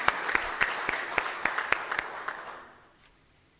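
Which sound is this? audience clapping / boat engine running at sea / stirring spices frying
audience clapping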